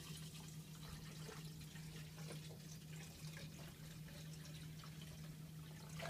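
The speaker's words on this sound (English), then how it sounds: "We're just going to pour the 26 ounces fixture in here." Faint, steady stream of about 26 ounces of film fixer poured into a developing tank, a continuous liquid trickle over a low hum with no speech.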